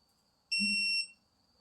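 One short electronic beep from a cordless ratchet's alert, a bright high-pitched tone lasting about half a second, clear and alone against near silence.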